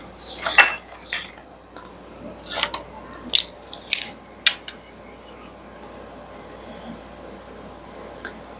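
Metal utensils clink and scrape against dishes while a teaspoon of baking powder is measured out in a home kitchen during potluck cooking. The clatter comes in several sharp bursts over the first few seconds, then quiets, with no talking.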